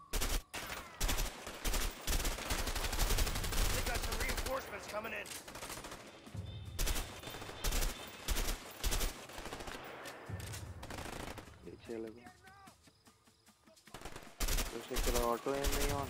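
Bursts of rapid gunfire from the co-op game A Way Out crackle loud and close in repeated volleys, like automatic weapons, with a short quieter lull and occasional voices underneath.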